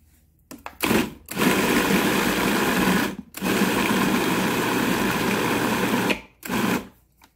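A food processor whirs loudly and steadily as it blends fish paste for homemade Vietnamese fish cakes. It runs in three bursts with brief pauses between them, close and with no talk over it.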